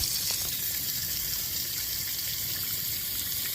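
Water gushes steadily from a hose into the tub of a Roper washing machine, a constant hissing fill without pauses, moderately quiet and with no talking.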